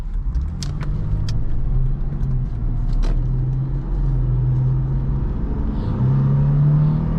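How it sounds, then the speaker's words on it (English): A 2012 Lexus IS250 AWD pulls away from inside the cabin, its engine a steady low drone that rises in pitch under acceleration, with a few light clicks and rattles near the start. "I'll try some of the acceleration once I get out onto this road."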